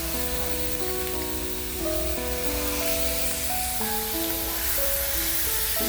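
Soy sauce hits sausages already sizzling in a hot pan, giving a steady, close frying hiss that runs the whole time beneath sustained background music.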